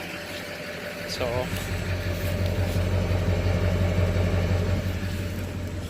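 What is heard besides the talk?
diesel truck engine idling with exhaust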